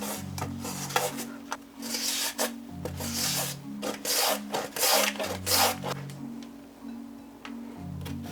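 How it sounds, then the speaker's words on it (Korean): A carrot being shredded on a fine julienne grater, with steady rhythmic rasping strokes repeating close up and loud, each pass a coarse scraping rub. "당근은 고운 채칼로 해볼게."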